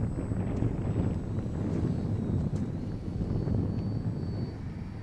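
Great Planes SU-31 electric RC model airplane in flight outdoors, a steady faint motor whine sitting over heavy wind buffeting on the microphone for the whole stretch.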